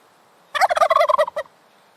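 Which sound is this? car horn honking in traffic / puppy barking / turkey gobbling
turkey gobbling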